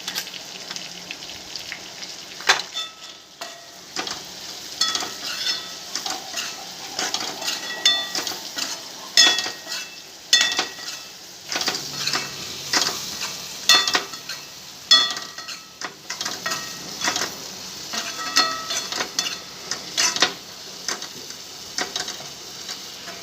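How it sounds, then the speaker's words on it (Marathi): Bitter gourd curry with chilli powder and black masala being stirred in a pan, with intermittent scraping and clinking of a spoon against metal over a soft sizzle, irregular and close. "मैत्रिणीनं दहा पंधरा मिनिट चांगलं हलवायचं ह्याला आणि चांगलं शिजवून घ्यायचं"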